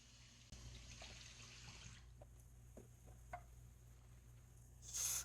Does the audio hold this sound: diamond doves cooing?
no